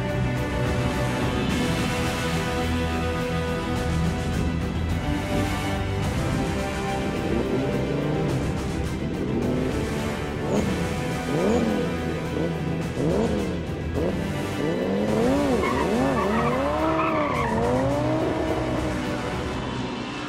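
A 1930s car runs hard on an airfield dragstrip during land speed record attempts, its engine droning loudly throughout with rising and falling revs and a wavering squeal late on, close and continuous.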